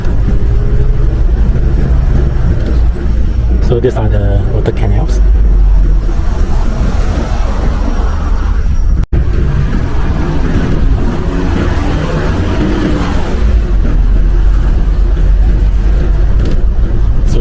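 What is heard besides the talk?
bus driving towards the airport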